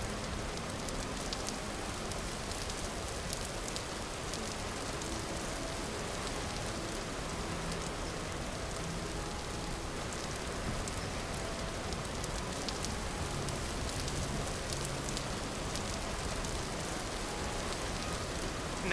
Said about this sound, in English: Not liking being out in the rain.